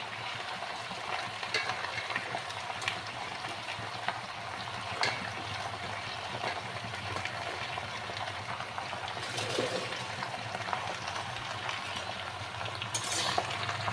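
Bottle gourd greens and vegetables stir-frying in a full wok, a steady close sizzle broken by repeated scraping and stirring strokes, with moist bubbling underneath and no talk.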